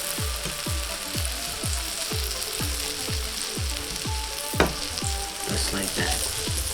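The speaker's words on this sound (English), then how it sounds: "See, the sausages are almost done too." Breakfast sausages frying in a pan, a close, continuous sizzle and crackle under a regular series of soft low thumps, with one sharper knock midway.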